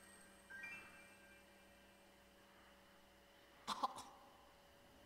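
A short burst of coughing from a fairy in Zelda: Breath of the Wild, two or three quick coughs, rises briefly over a quiet electronic hum and faint background tones.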